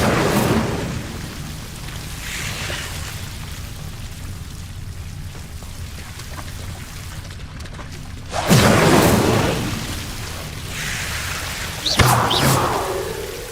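Incendio fire spell in the Hogwarts Legacy video game, two loud roaring bursts of flame about three seconds apart, rising sharply over a steady low rumbling game background.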